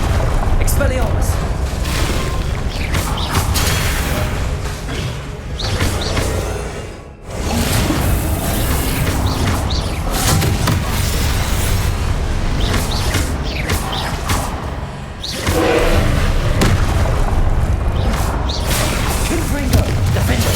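Spell blasts and explosive booms from the Hogwarts Legacy video game, a dense, continuous barrage of crashes and whooshes over steady game music, with a brief drop near the middle before the loud battle resumes.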